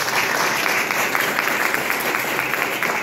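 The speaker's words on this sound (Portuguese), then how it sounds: "Muito obrigada e uma salva de palmas para o professor." Steady applause from a school audience welcoming a teacher at an afternoon lecture on art and literature, even and continuous across the short stretch with no voices breaking through.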